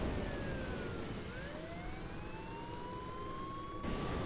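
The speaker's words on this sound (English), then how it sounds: "And apparently I've turned into a police car." A police car siren in the vehicle-building game Trailmakers wails with a rising and falling pitch, sitting moderately faint over a steady rushing engine and wind drone.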